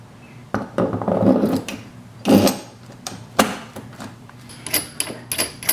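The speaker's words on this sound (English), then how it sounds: "Now we're just threading on the nuts onto the shanks." Metallic clicks, taps and scrapes of nuts being threaded onto keg tap shanks while converting a fridge into a kegerator, close by, with irregular clatter and a few sharper knocks.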